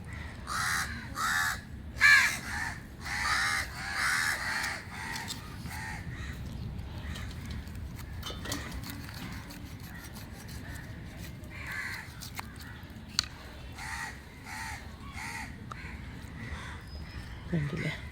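Crows caw repeatedly and loudly in bursts through the first few seconds and again later, over an outdoor scene where fish is being cut, with a steady low background noise and occasional sharp knocks.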